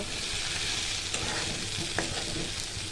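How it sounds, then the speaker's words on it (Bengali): Bitter gourd and potatoes frying in a pan while being stirred, a constant loud sizzle with a few scraping strokes and light clinks of the spatula, close by and without talk. "এখন করলা আর আলুগুলো দিয়ে দিব। ভালো করে একটু নেড়ে চেড়ে আর একটু কষিয়ে নেব।"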